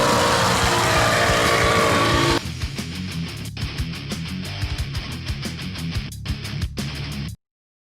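A Ford Mustang engine with loud aftermarket mufflers roars close by, first as a dense rush, then settling into a throbbing, pulsing exhaust rumble before cutting off abruptly.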